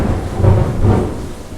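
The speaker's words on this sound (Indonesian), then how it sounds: "di rumah gua sedang diguyur hujan" Heavy rain with rumbling thunder at home, a loud, steady low roar swelling in two broad surges, with no voices.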